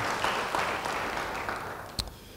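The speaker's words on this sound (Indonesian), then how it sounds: "Yang percaya, beri tepuk tangan bagi dia." A church congregation applauds after a sermon prompt, steady moderate clapping from a crowd in a worship hall, with one sharper clap or knock standing out near the end.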